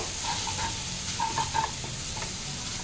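A coriander and mint chutney mixture is stirred in a hot pan, a soft sizzle running beneath a few light scraping strokes of a spoon at close range.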